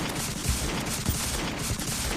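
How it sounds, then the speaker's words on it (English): Rapid, loud weapon fire from the Terraria video game during a goblin army fight, a dense continuous barrage of gunfire-like bursts with regular thumping shots, no talking. "Again, I apologize for the weapon being super loud."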